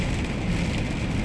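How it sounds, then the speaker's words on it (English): Rain patters steadily on a car in traffic, heard from inside as a broad, constant wash of drops, fairly loud and close, with no talking. "it's raining"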